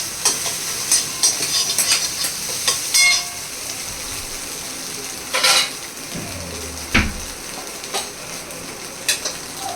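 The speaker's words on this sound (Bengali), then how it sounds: "ডিমটা ভাজা হয়ে গেছে, তেল গরম হচ্ছে।" An egg fries in hot oil in a pan while cooking chowmein, giving a low steady sizzle broken by sharp clinks and scrapes of a utensil against the pan.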